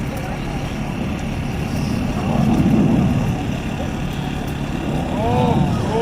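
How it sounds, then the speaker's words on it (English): Red Arrows jets flying a slalom maneuver at the 2019 Oregon air show: a steady distant engine roar swelling slightly as they pass, heard beneath continuous commentary. "There it is, the aircraft slalom to the correct side"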